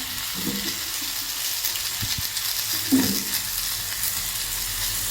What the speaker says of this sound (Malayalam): ഇനി ഇതൊന്ന് നന്നായിട്ടൊന്ന് വഴറ്റി വരുന്നവരെ നമുക്കൊന്ന് വെക്കാം